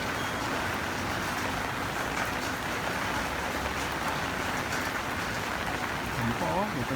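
Constant heavy tropical-depression rain pours down in a broad steady hiss, with faint traffic-like rumble beneath and a brief voice near the end, amid week-long flooding.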